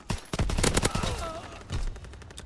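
Rapid bursts of gunfire from a weapon in the video game Call of Duty WW2, loud and close, with several quick volleys crackling through the first second and a later burst after a short pause.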